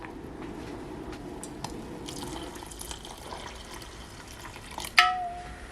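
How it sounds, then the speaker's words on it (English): Water pours steadily and fairly quietly into a hot pot of vegetable soup, followed by a brief sharp clink near the end. "I think it's a good time to put some additional water in here now."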